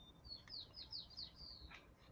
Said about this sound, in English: It's probably a little white-crowned sparrow.